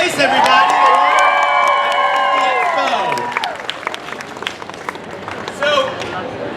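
A big convention-hall crowd at a D23 Expo Disney+ panel applauds and cheers loudly, with sustained sung or held tones over the clapping at first, then thinning applause and scattered whoops.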